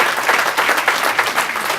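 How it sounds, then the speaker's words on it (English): Applause from the audience at a Democratic club meeting in Hempstead, a dense steady patter of many hands clapping at close range for nearly two seconds, with no talk over it. "So give Kevan a round of"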